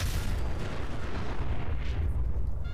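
A fragmentation grenade explodes in the game Fallout 4, a dense rumbling blast that fills the moment and slowly trails off, with no voices over it.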